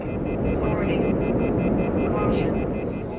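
Fighter jet in the video game Ace Combat: Assault Horizon Legacy cruising at very low speed, a steady broad engine roar that holds throughout with people talking over it.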